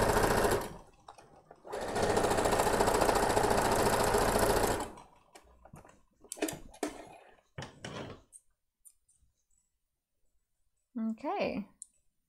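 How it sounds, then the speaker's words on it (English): A serger overlocks the waistband and hem of a knit-fabric pencil skirt. It runs in a loud, steady whir for a few seconds, then gives short stop-start bursts and clicks, and a voice speaks near the end. "Then we're gonna serge around the waistband and the skirt hem."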